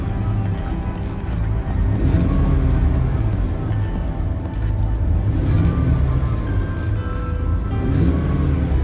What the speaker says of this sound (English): I accelerate a few times.